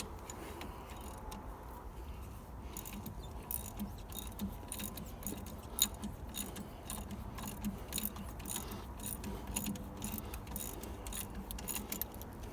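A ratchet loosens the brake caliper bolts on a 2001-2007 Dodge Caravan during front brake work, giving a dense, steady run of close, rapid clicking with occasional metallic knocks and no talk.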